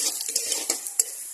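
Spices sizzling and being stirred in hot oil in a Bengali kadai (wok), with several sharp scraping clinks of the spoon against the metal over a steady close frying hiss.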